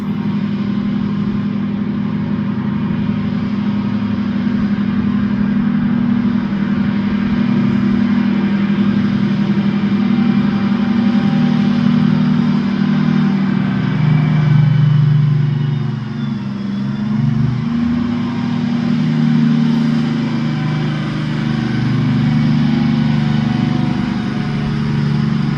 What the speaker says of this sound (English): Tonka truck coming.